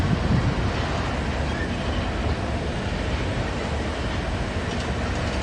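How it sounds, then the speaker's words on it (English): A freight train with a Ferromex locomotive in its power rolls past in Ashland, Nebraska. It gives a steady, broad rumble of moving railcars from fairly close by, with some wind noise over it. "So this train is definitely going to stop."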